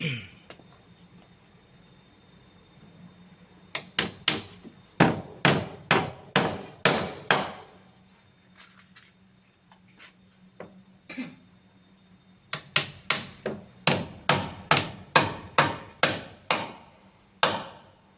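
Hammer blows drive nails through gypsum board into a wooden frame: two close, loud bursts of about a dozen evenly paced strikes each, separated by a quieter pause.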